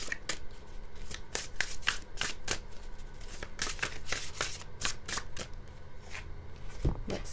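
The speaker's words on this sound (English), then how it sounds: "We're going to draw one more card from the Mystical Wisdom deck." Oracle cards from a Mystical Wisdom deck being shuffled and drawn, a rapid run of crisp card riffles and slaps close by, with no talk.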